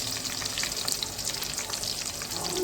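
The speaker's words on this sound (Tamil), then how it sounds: "இஞ்சி பூண்டு பேஸ்ட்டு நல்லா அந்த பச்சை வாசனை போகிற வரைக்கும் நல்லா வதக்கணும் ஃப்ரெண்ட்ஸ்" Ginger garlic paste sautéing in a pan with browned onions for a chicken curry, a close, steady crackling sizzle with faint stirring scrapes, brief and without talk.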